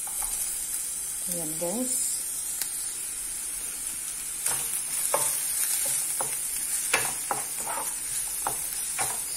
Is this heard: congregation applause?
no